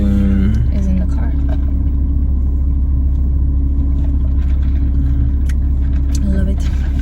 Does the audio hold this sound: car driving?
yes